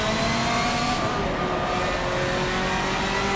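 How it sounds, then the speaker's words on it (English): A Nissan's engine drones steadily in Forza. It is loud and close, with sustained revving tones that shift slightly in pitch and no talk over it. "but that sounds awesome, that Nissan in front"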